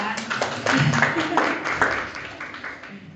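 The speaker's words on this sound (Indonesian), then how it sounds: "Kasih tepuk tangan dulu ya buat bapak-bapaknya ya." Lecture audience clapping for guest speakers during a class on the digestive system, a short burst of scattered claps heard close, with some voices mixed in.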